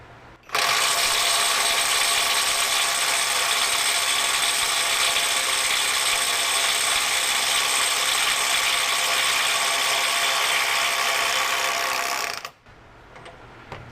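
Neiko 20V brushless 3/8-inch impact wrench, model 10880A, hammering on a fastener at around 150 foot-pounds, a loud continuous rapid rattling buzz held for about twelve seconds before stopping abruptly, with no talking.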